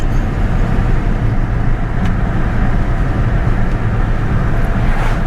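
An old Ford OBS pickup truck, needing tires and brakes, drives along a road with a steady, loud engine drone and road rumble throughout, heard from inside the cab with no talking.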